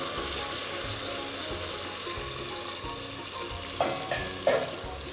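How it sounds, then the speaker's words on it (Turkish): Grated tomato sauce with tomato paste cooking in a pan: a steady soft sizzle and bubbling simmer, close, with a couple of brief clinks near the end and no talk. "Rendelediğimiz domatesle birlikte sosumuzu pişirmeye devam ediyoruz."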